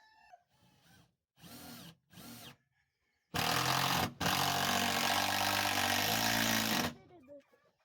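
A power drill drives screws into a board, with several short bursts followed by two long, loud whirring runs close by, separated by a brief pause.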